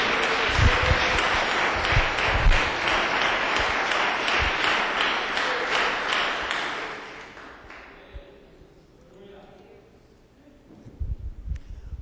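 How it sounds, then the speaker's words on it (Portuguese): A church congregation claps loudly and steadily for several seconds during an evening worship service, then the applause fades away to near quiet before light movement and a few scattered sounds return at the end. "dá uma salva de palmas para Jesus"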